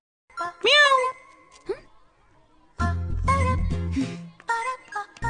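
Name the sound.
person imitating a cat's meow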